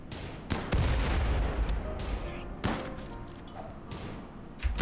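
Grenade blasts in the colony game RimWorld: several sharp bangs and heavy thumps spread across a few seconds, loud and close, with quieter rumbling between them.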